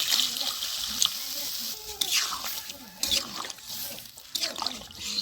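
Water pours and trickles into a pan of taro and egg curry, a soft uneven splashing that comes in several short bursts, faint and close.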